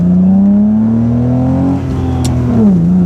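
A light car weighing about 1.2 tonnes revs hard and accelerates on the road, a loud steady engine drone climbing in pitch, easing briefly, then pulling again, heard from inside.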